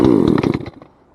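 Chainsaw engine sputtering briefly on a pull start while clearing a food plot, a loud close rattle that dies away within about a second.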